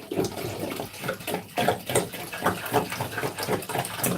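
Water poured over fall seedlings of cabbage, collards and mustard greens in an indoor Gardyn garden, a splashing, trickling stream that swells and ebbs in uneven pulses, close and fairly loud, with no talk.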